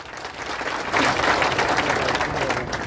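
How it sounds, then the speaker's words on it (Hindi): A political crowd applauds at a rally with Prime Minister Narendra Modi, a broad wash of clapping that swells after a second and holds steady, heard at a distance from the hall. "इसके लिए हम तालियां हो जानी चाहिए।"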